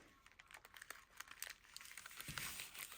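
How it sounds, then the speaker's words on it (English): Paper coffee sleeve edges folded and creased by hand, close crinkling and rustling with quick crisp crackles and short sharp creases in an uneven rhythm, quiet and without talk. "so we're going to fold the edges in"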